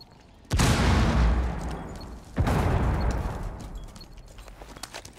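Two heavy grenade blasts in the video game Rainbow Six Siege, the first booming in loud and the second following about two seconds later, each rumbling out into a long roaring tail with scattered crackles.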